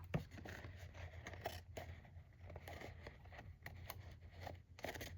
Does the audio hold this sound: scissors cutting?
yes